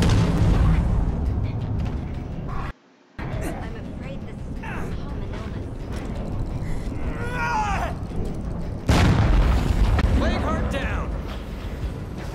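Frag grenade blasts in State of Decay, with a loud boom at the start, another heavy explosion later, and clattering combat noise and voices in between.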